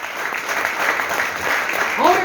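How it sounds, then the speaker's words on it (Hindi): An office audience at a branch pinning celebration claps for the training team, steady close applause lasting a couple of seconds with some voices mixed in. "एक बार जोरदार तालियां ट्रेनिंग टीम के लिए।"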